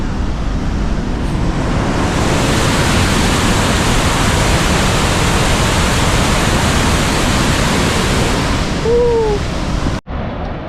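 The falls in the Grand Canyon of the Yellowstone roar in a loud, continuous broadband rush that fills the whole scene, steady and unbroken until a sudden cut at the end.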